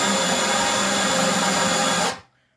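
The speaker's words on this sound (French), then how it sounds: "On va chanfreiner" A drill-driven chamfer bit cuts into a drilled hole in an aluminium wheel rim from a VW Touareg V10, giving a steady, loud, close whir that stops abruptly after about two seconds.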